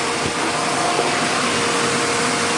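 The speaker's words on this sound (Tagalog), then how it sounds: "May air gun sila, may air blower." A compressed-air blower used for furnace cleaning gives a loud, steady, broadband whoosh that holds constant and close throughout, with no talking.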